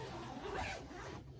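A zipper on a new piece of luggage is pulled open in one quick, close, quiet stroke lasting just over a second.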